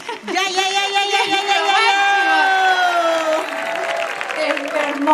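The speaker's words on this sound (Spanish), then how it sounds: "El aplauso para los bailarines" An audience applauds ballet dancers at a festival closing ceremony, a dense sustained burst of clapping and cheering from a large crowd, with whoops and voices mixed in throughout.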